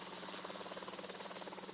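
Ultralight (ULM) helicopter engine running steadily with a rhythmic rotor chop, a continuous mid-level drone with regular pulsing beats throughout and no talk.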